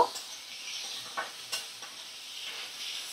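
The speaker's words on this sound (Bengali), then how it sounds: "হলুদ গুঁড়ো আর নুন দিয়ে একটু ভাজা করে নেব" Bhola fish fillets fry with turmeric and salt over a medium flame, giving a soft continuous sizzle and hiss with a few light stirring clicks, close up and without voices.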